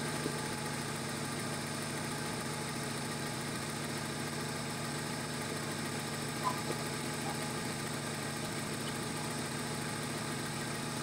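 A Honda Civic LXi engine idles steadily while running hot with a constant low hum and faint mechanical ticking, fairly quiet and unchanging throughout.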